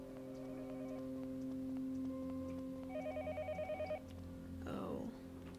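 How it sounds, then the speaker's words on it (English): Telephone ringing nearby in the horror game Yomawari: Night Alone, heard as repeated electronic trilling rings over a low ambient drone, fairly faint and with no one talking. "there is a phone nearby, I hear it"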